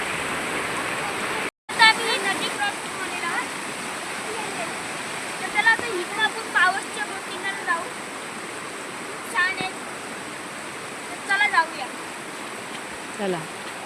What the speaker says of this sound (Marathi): तर बघ नदी